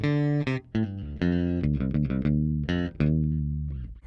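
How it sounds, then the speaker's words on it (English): A Fender Player II Mustang Bass P/J played on its bridge pickup with the tone rolled off, giving a rounded melodic line of plucked notes with clear sustained harmonics, close and alone without talk. "We go back to that bridge pickup,"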